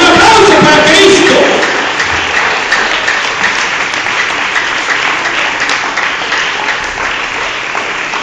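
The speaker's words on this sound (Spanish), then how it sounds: "Un aplauso para Cristo." Loud, sustained applause from a church congregation during a Sunday morning Spanish-language evangelical service, dense clapping that swells at the start and then holds steady throughout, with faint voices mixed into the crowd.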